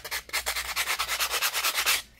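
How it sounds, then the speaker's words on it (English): A sanding block rubs back and forth across the edges of paper journal pages, about a dozen quick, even scratchy strokes in steady rhythm, close and alone. "my idea is to rough up the edges on these. And you can do it with a sanding block."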